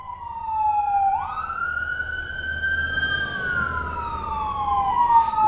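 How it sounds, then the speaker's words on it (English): Fire engine sirens wail past, a loud rising and falling tone that sweeps up then slowly glides down as the trucks go by, steady and alone with no talk. "We've got some fire engines going by."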